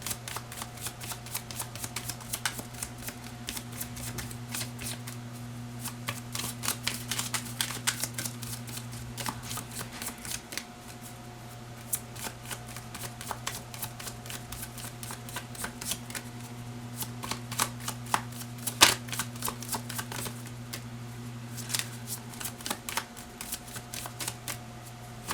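A tarot card deck is shuffled repeatedly, with quick riffling flutters and soft card slaps, close and continuous over a steady low electrical hum.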